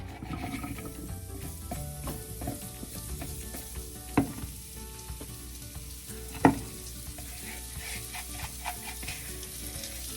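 Potatoes with spices frying in hot oil, a continuous close sizzle with occasional clinks and scrapes from stirring, including two sharper knocks against the pan.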